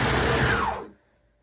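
A home sewing machine stitches dress bodice pieces together in a short, dense mechanical whir that cuts off abruptly into quiet.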